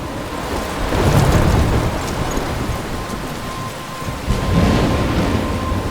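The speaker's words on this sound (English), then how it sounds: "I'm trapped in a storm?" A thunderstorm in the game Life is Strange pours heavy rain over deep, rolling thunder, loud and continuous throughout, with a louder rumble swelling near the end.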